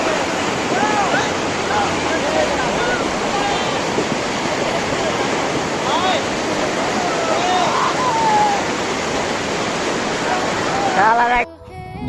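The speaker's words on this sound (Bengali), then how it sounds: "এর মধ্যখানে বয়ে চলেছে ঝর্ণার পানি।" Waterfall stream water rushing among white stones between big hills in Bholaganj, Meghalaya border, a loud steady broadband roar filling the scene, briefly interrupted near the end.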